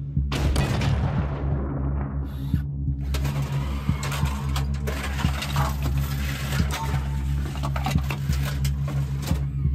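A tank gun fires in combat, a heavy boom near the start followed by a constant loud rumble of the tank's engine and interior, with clanks and clicks spread throughout.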